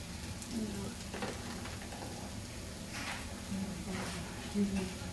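Pre-cooked pieces seasoned with salt and pepper sizzle steadily in a hot pan during a cooking demo, a soft continuous frying hiss with occasional louder crackles and quiet speech in the background.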